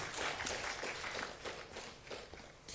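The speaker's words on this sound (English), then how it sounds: "I would like to have a big round of applause for all the panelists." Faint, dense audience applause for panelists at an AI summit, a continuous patter of many hands from a distance that rises and thins in waves, with no talking over it.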